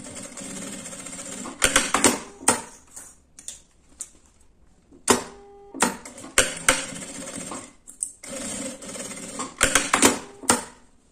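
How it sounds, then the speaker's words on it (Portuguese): A sewing machine stitches seams on a small zipper pouch in bursts of rapid mechanical chatter with short pauses between, close and fairly loud with no talking. "E agora eu faço uma costura aqui e a outra aqui."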